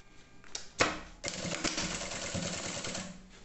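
A sewing machine stitches a bagum lining for a clear-plastic pouch, opening with a couple of sharp clicks and then breaking into a quick, rattling run of stitches at close range before slowing to a stop.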